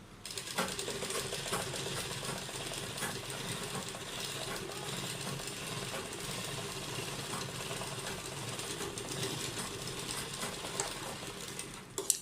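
A sewing machine stitching the neckline of a kurta, running in one steady fast mechanical whirr at close range for the whole stretch, then stopping with a few clicks at the end; no voices.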